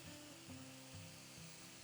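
Green beans, carrots, spring onions, courgettes and mixed peppers hit hot oil in an aromatic pan, giving a soft, steady sizzle that stays faint and low throughout.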